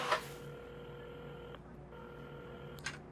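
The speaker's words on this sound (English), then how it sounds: "at the counter, Carmen had started dialing the phone" A telephone is dialed in the puzzle game Assemble with Care. Quiet, steady dial tones hold in two stretches, broken by a short gap and brief clicks at the start and end.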